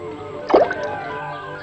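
A single water drop from an automatic drip irrigation system lands with a short, close plop against a faint background hum.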